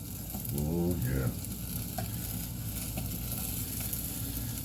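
Red onions sizzle and crackle as they drop into hot olive oil for a black bean soup, with a brief louder burst near the start that settles into a steady frying hiss.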